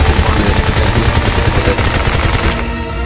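Gunfire from a shotgun in the video game Bright Memory: a loud, dense barrage of shots and impacts runs steadily for about three seconds and thins slightly at the end.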